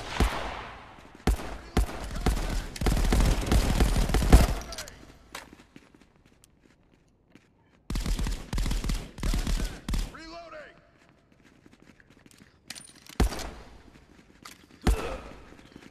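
A bolt-action gun in the Contractors VR game fires single sharp shots separated by pauses, with reloading clatter in between. Players talk over much of the gunfire.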